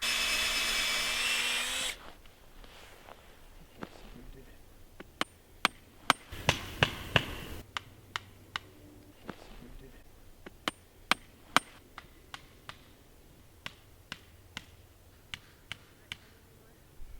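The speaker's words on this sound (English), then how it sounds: "Now we're just going to nail them all in." Portable electric chicken-fence posts are tapped into frozen, snowy ground with sharp, isolated knocks at irregular intervals, plus a brief cluster of quicker strikes, after a short burst of louder noise at the start.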